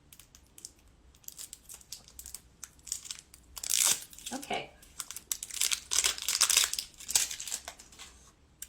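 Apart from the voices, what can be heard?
tearing open lipstick packaging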